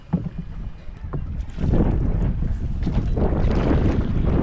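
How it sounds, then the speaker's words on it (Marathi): A wooden rowboat moves through a windy mangrove creek near Mumbai during crab fishing, with close, steady water churn and splashing. The sound rises and thickens after a quieter opening and continues without talk. "होडी चालवायला खूप त्रास होणार आहे"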